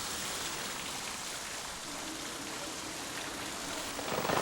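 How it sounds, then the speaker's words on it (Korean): Rain falling over Yeouido in Seoul, a steady soft hiss of drops at moderate distance that swells slightly toward the end, with no speech. "이렇게 비가 오는 날이면 어미 황조롱이는 근심에 쌓인다."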